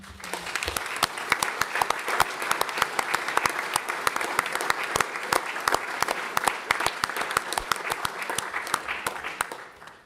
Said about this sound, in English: I think we really owe those 4 councillors a round of applause